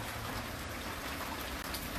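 Heavy outdoor rain in Jamaica, steady and dense, hissing on surfaces as a continuous loud wash with no voices.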